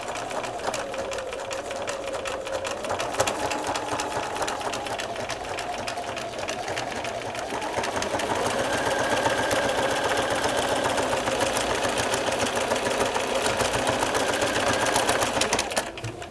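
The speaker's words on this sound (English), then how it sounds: "make sure you put your foot down on your machine much slower to allow for it to go over" A sewing machine runs steadily while stitching a fabric notebook cover, slowing as it passes over a seam of piping, then picking up a louder, denser whirring rhythm for the rest of the stretch, close and without talk.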